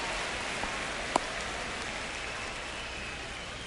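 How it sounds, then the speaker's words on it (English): Rain falling during a Seattle at Cincinnati baseball game, a steady, even hiss of rain on surfaces with one brief faint knock, no voices heard. "The rain is here, and it doesn't look like it's going away anytime soon"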